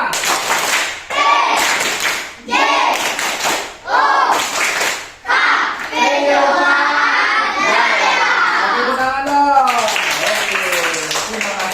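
Children perform the tepuk PJOK clapping chant, clapping in a quick rhythmic pattern while chanting together loudly, with short pauses between bursts and a lively shouted finish.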